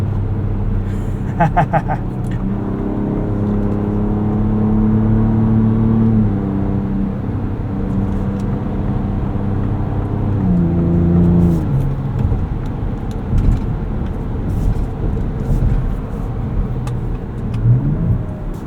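A 2024 Ford Ranger Raptor pickup's engine surges and revs hard as it accelerates out of corners, its note climbing and dropping through gear changes, loud and close, with brief speech at times.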